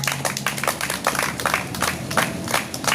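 Congregation clapping steadily together during a church prayer service, a dense continuous round of applause filling the room at close range with no speech over it.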